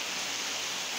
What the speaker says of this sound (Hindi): इतनी जोरदार बारिश हो रही है बाहर पे